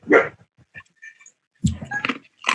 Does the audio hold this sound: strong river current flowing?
no